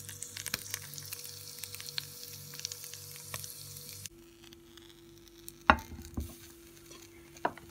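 Puffball mushrooms (Lycoperdon perlatum) fry in a pan with a quiet, steady sizzle and crackle, punctuated by a few soft stirring clatters.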